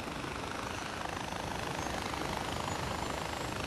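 Helicopter in the video game Far Cry 4, a steady, dense rotor and engine drone that holds at an even, fairly loud level throughout with no talk over it.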